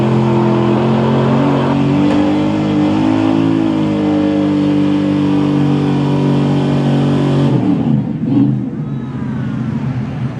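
Ford pulling truck's engine revving hard on a sled at a truck and tractor pull in Farmville, a loud steady droning roar with shifting harmonics that cuts off suddenly near the end, leaving a crowd murmur and announcer voice.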